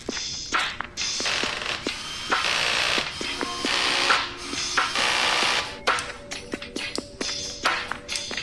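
A ratchet clicks in quick repeated runs while tightening ignition coil cover bolts on a Nissan S14 engine, close and crisp with short pauses between strokes.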